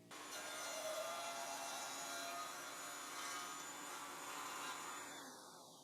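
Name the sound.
table saw cutting a slot for the riving knife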